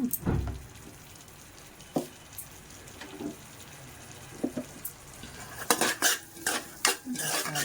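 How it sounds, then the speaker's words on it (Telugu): Potato kurma in a pot being stirred with chilli powder and coriander powder mixed in, with a gentle sizzle under repeated scraping and clinking of a spoon against the pot, growing busier toward the end. "బాగా కలపండి."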